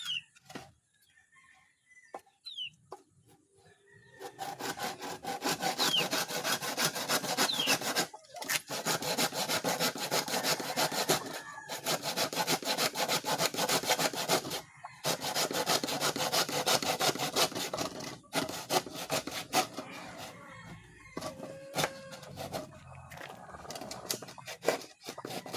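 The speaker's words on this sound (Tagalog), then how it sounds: "kunting lagari na lang" Hand saw cutting through wood in steady back-and-forth strokes, close and loud, with short pauses between bursts of sawing.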